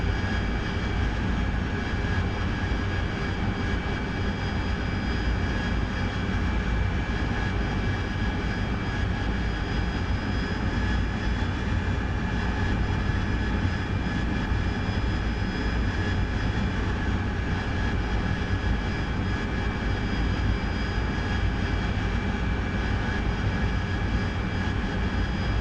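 A jet aircraft in the DCS World flight simulator drones steadily with a loud, continuous cockpit engine roar and faint whining tones, unbroken throughout.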